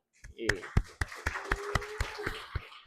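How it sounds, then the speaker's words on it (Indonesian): An audience gives a brief, sparse round of claps at a programming community camp event. A handful of distinct hand claps sound fairly close, with a voice heard faintly underneath. "Boleh tepuk tangan?"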